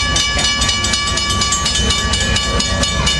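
Amtrak train hauling Amfleet I passenger cars rolling past close by, a loud continuous rumble with rhythmic wheel clicks and a steady high whine.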